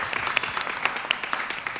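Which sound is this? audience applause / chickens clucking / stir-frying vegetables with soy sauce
audience applause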